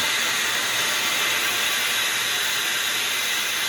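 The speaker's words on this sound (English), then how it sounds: "So right now we're just leaving some of the pressure." Boiler venting pressure, giving a continuous loud steam hiss that stays steady and unbroken from start to finish, with no one speaking.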